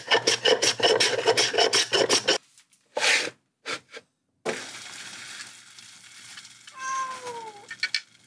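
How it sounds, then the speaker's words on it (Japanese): A block of dried bonito (katsuobushi) is shaved in a kitchen with rapid, rhythmic, close rasping strokes, then a few slower separate scrapes, and a cat meows softly near the end. "またまた鰹節を削っていきます。"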